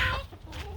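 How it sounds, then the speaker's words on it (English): A broody hen gives a short, close cluck, a single brief throaty note in the coop. "I wanted to show you my broody hens."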